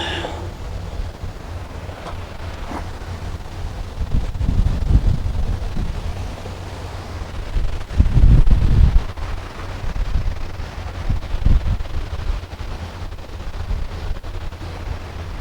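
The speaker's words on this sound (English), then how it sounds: "Little less windy here." Gusty wind at a race track buffets the microphone in low rumbling bursts, rising and falling over a steady outdoor background.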